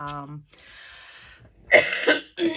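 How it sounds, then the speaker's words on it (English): Close harsh coughs sound after a short vocal sound and a breathy exhale, with two rough bursts near the end. "so sorry for my voice and my coughing"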